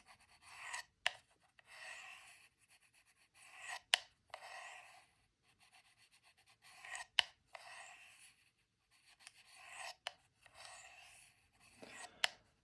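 A knife blade stroked across a sharpening stone, raising a burr: repeated soft rasping swipes in a steady rhythm, each sweep ending in a brief louder scrape, close and clear with no talking.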